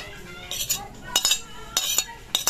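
A spoon stirs sago gulaman with cheese in a bowl, giving repeated close, bright clinks and scrapes in short bursts against a faint background.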